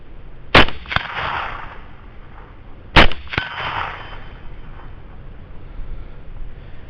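Two rifle shots at a 100-yard target fired with a Photon RT 4.5 scope, each a sharp loud crack followed by a quick second report, about two and a half seconds apart, with wind noise between.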